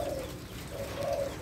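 A spotted dove imported from Thailand or Malaysia coos steadily in a low, mellow repeated tone, close and clear against a constant background hiss, with no talking.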